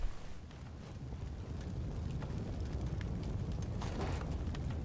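A deep, rumbling explosion in the video game Fallout 4 rolls on as a low roar with scattered crackles, fairly loud and sustained throughout.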